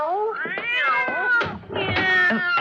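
Several cats meow and caterwaul indoors, with loud, drawn-out overlapping cries that rise and fall, close to the listener and with no talking.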